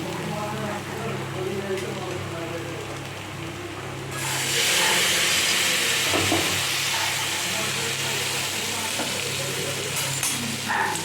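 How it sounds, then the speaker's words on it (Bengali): Dal poured into a hot tempering erupts into a loud, bright sizzle that swells suddenly and holds steady, following a quieter stretch of frying and faint talk. "এবার ফোড়নটা হয়ে গেছে এবার আমি ডালটা ঢেলে দেবো"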